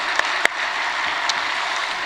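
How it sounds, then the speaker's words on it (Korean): A church congregation claps in blessing for its Sunday school and church school teachers, a short burst of dense, steady applause filling the room with a couple of sharper claps near the start. "우리 축복하는 박수도 한번 해요"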